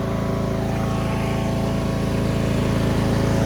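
Small engine of a Craftsman T2400 garden lawn tractor running steadily as it drives forward slowly, a continuous close, loud droning hum with no talk over it.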